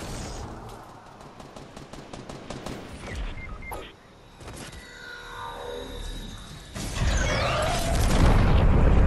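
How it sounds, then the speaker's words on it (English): Sci-fi laser blasts from a battle royale video game, a rapid burst of repeated zaps followed by a sweeping electronic whine, with game noise rising loudly toward the end. "Oh, it's shooting a laser at tilted."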